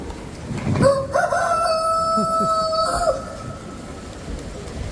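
A rooster at the opening ceremony of the Dominican Fair crows one long, loud cock-a-doodle-doo close by, with brief clucking around it and an open-air background.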